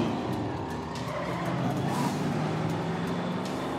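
Cartoon super truck driving along, a continuous motor whine with a hint of tire skid, moderately quiet and steady across a few seconds.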